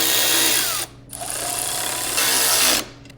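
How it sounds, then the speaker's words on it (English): Power driver fitted with a 5mm Allen bit snugging a bolt on a Touratech rack for a BMW R 1300 GS motorcycle: two close, loud whirring bursts separated by a short pause, with no speech. "This is a 5mm Allen nut driver and a 13mm bolt on the back. So we're gonna snug this up a little bit."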